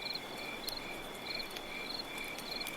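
Crickets chirp at night in short rhythmic repeating trills, the pulses coming in a steady pattern over a soft continuous background hiss, with no voices.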